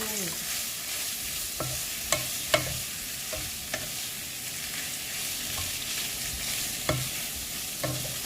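Minced pork is stir-fried in a hot pan for Thai basil stir-fry, a constant loud sizzle broken by sharp spatula scrapes and knocks at irregular intervals, close by with no speech.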